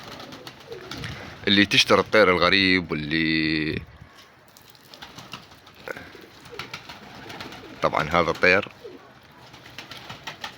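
Flying pigeons kept by a hobbyist coo loudly in repeated bursts, close by, while someone talks over and between the calls.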